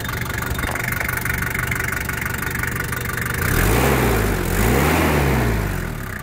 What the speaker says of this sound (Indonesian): Kita dengar suara mesinnya ya.